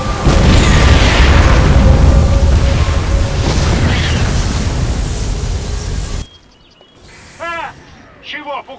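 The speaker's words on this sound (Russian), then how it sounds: "Воздаятель готовится к выстрелу." Retribution unit firing its shot in the StarCraft 2 video game, a loud sustained explosive roar lasting several seconds that cuts off abruptly, followed by quieter game sounds and brief bursts of speech.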